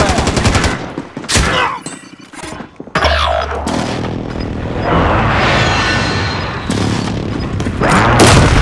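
Loud video game explosions from a friendly precision airstrike, a rapid series of blasts and heavy booms with crackling gunfire-like bursts running almost continuously, close and dense.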